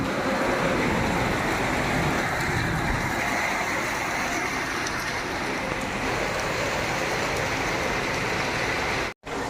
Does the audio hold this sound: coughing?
no